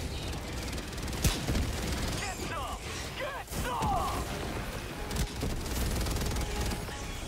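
Rockets firing in Helldivers 2: sharp launches and blasts amid continuous rattling weapon fire and battle din, with a few louder bangs and whooshing sweeps, while a person talks.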